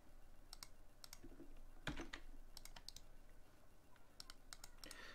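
Computer keyboard typing comes in quick, light clicking bursts with short pauses and one heavier tap, close by and fairly quiet, while commands are copied and pasted.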